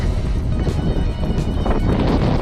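Strong wind roars and buffets steadily against the microphone, a constant low rumble with no pause.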